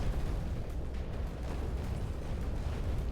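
A building collapsing in the Instruments of Destruction game: a sustained, loud rumbling crash of breaking structure that roars steadily throughout with no pauses.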